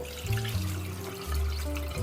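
Water pouring into a container to gauge how much is added, a steady close stream with low rushing tones that briefly cut off and then resume, heard alone.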